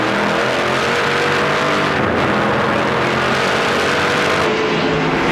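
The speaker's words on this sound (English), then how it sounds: "Here, Kerry Mix short shifting that motor." A stock car racing at the Canadian Tire 100 in Edmonton in 2010, its engine roaring loud and steady with slight shifts in pitch from short shifting, a dense unbroken engine drone with no speech heard.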